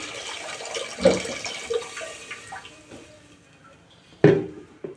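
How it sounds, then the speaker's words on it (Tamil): Water splashes and pours into a pan while cooking coconut milk kozhukattai, with a couple of sharper splashy bursts and clinking against a quieter running background. "கொஞ்சம் தண்ணி ஊற்றிக்கணும்."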